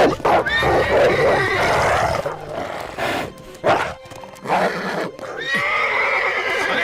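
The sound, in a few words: horse neighing in a cartoon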